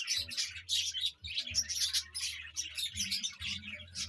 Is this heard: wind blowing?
no